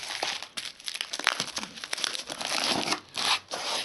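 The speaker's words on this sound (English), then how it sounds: "So I'm gonna start actually unwrapping some of this" Plastic packaging crinkles and tears as a steel quick change press system and its mounting plates are unwrapped, close, busy rustling in irregular bursts with no talking.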